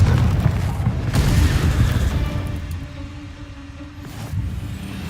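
Confringo explosion spell in a wizard video game, a deep booming blast with rumbling low end that rolls and fades over several seconds, followed by a smaller thud.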